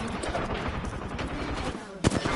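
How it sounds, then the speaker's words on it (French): Rapid gunfire in the Apex Legends video game, dense repeated shots over a noisy game mix with a sharper burst near the end. "Je flingue."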